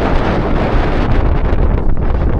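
Strong coastal wind where paraw sailboats sail roars and buffets the microphone continuously, a loud, rumbling, gusty wash with no voices.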